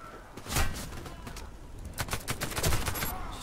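Rapid gunfire from a weapon in the shooter game Warface, a series of sharp cracking shots in uneven bursts, close and fairly loud, with a couple of heavier reports standing out.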